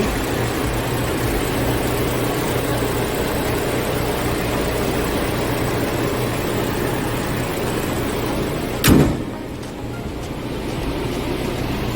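A Hyundai Kona SUV's four-cylinder 2.0 engine idles with a steady, constant rumble throughout, broken once near the end by a single sharp click.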